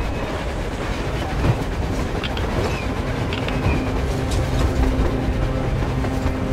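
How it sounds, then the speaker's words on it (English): A train rumbles past on the surface in the post-apocalyptic shooter Metro Exodus, a loud continuous rolling roar with faint clattering and tonal hums, steady throughout with no speech. "A train! A damn train on the surface!"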